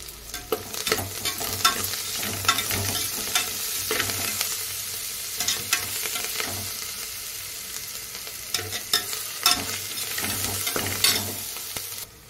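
Ginger garlic paste frying in hot oil for mushroom biryani, a continuous crackling sizzle punctuated by repeated sharp scrapes and taps of a spoon stirring the pan.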